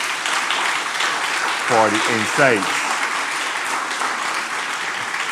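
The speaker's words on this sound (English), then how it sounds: "Surely this panel deserves another round of applause" Audience applause for a panel discussion on gender inequality fills the clip as steady, dense clapping from a large crowd, with someone speaking briefly partway through.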